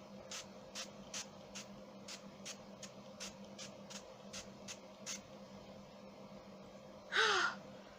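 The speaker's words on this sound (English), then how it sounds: "I'm using the Zaron face finishing spray, and I'm just going to do that all over my face" About a dozen quick, hissing spritzes of face finishing spray repeat in a steady rhythm. A crow caws once near the end.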